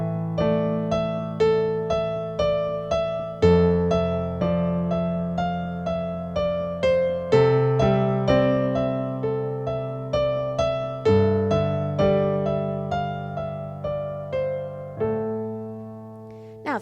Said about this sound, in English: So now this time, I'm going to do an octave with a 5th in the middle.